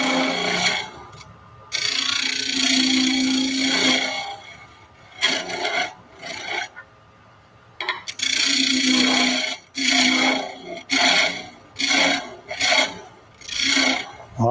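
A wooden spinning top turns on a lathe as a tool cuts the spindle end where the tailstock tip left a dimple, loud close rasping cuts coming in bursts of varying length broken by short quiet pauses, with no talk.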